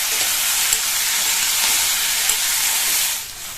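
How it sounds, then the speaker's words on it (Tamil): Brinjal pieces frying in oil over a high flame give a loud, steady broadband sizzle that holds close and even for a few seconds, easing off slightly at the end. "இப்போ இதை ஹை ஃப்ளேம்லேயே வச்சு 2 நிமிஷத்துக்கு நல்லா இந்த எண்ணெயிலேயே வதக்கிக்கோங்க"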